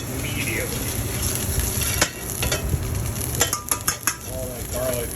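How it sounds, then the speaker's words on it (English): Garlic, butter and parsley sizzle and bubble steadily in a hot pan, with a few sharp clinks and scrapes of a utensil stirring near the end. "All that garlic and butter and parsley kind of frying together"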